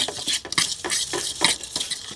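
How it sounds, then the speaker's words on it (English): A topping for baked fish being mixed in a bowl with a utensil, making quick, rhythmic scraping and clinking strokes, close and moderately loud, with no talking. "I'm gonna mix that together."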